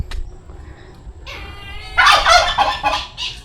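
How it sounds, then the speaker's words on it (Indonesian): A turkey at a poorly kept zoo gobbles in a loud, rapid burst of rattling calls. It follows a few quieter calls and other bird sounds nearby. "Ini kalkun."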